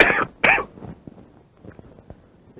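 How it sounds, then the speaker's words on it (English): A person with a cold gives two loud, harsh coughs close by, then a few faint throat sounds and breaths trail off. "today little cough and cold."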